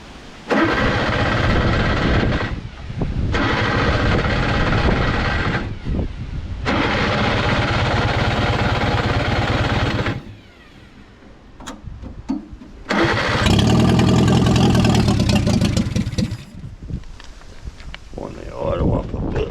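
A Lansing Bagnall tug, left parked outside for many years, runs after a cold start, its engine revving loudly in bursts with short dips between, then settling toward a rougher, uneven idle near the end.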